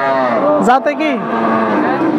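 A cow lows at a busy cattle market in Chougachha, Jessore, a single drawn-out moo close by, with crowd chatter and voices around it.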